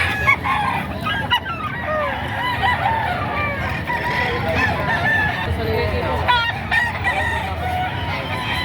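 A red Kelso gamecock at a livestock market crows and clucks repeatedly amid crowd murmur, with other fowl calling nearby and people talking over it.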